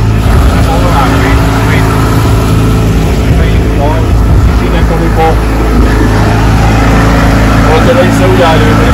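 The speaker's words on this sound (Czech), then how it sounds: "my jsme teďka na lodi" A steady, loud boat engine drone runs continuously on a rented boat in Croatia, with wind and water noise and voices talking faintly over it.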